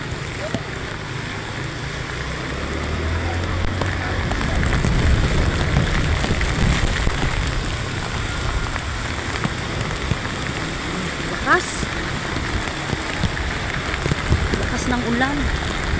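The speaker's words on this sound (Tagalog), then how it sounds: "Lakas ng ulan." Heavy typhoon rain pouring down on a bridge route, a dense steady hiss close by that swells slightly midway, with voices talking over it.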